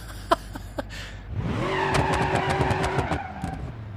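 A twin-blown Jeep engine in the BeamNG.Drive driving game revs up hard and roars steadily, with tire squeal and skidding, loud and close before easing off.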